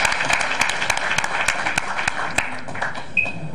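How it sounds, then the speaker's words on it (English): Audience applause welcoming Uganda's medal-winning athletes home from the 2019 IAAF championships, a loud, dense patter of many hands clapping steadily for several seconds with some voices mixed in. "Can we give him a hand clap?"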